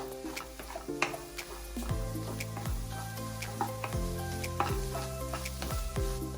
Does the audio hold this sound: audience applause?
no